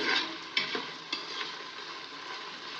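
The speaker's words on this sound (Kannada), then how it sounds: "ಇದನ್ನು ಎಣ್ಣೆನಲ್ಲಿ ಚೆನ್ನಾಗಿ ಫ್ರೈ ಮಾಡ್ಕೊಬೇಕು." Onions hiss and crackle as they fry in oil for a goat head mutton gravy, stirred with a few distinct scraping knocks of the spoon against the pan over a steady close sizzle.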